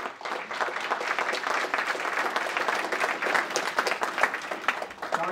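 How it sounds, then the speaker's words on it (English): An audience applauds speakers at a LinkedIn event, a steady dense wash of many hands clapping that holds evenly for several seconds without a break. "let's give the speakers another round of applause"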